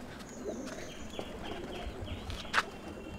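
Pigeons kept in a loft coo in a low, repeated murmur, with a few chirps and a brief flutter, moderately quiet and close by.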